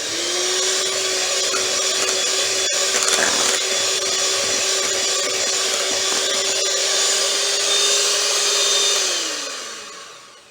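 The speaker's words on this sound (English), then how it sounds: "And I'm just going to get my mixer. I'm just going to start to mix it together." An electric mixer runs at a steady whine through a bowl of Christmas baking ingredients, close and loud, with a brief rattling bump partway, then winding down as it is switched off; no talking.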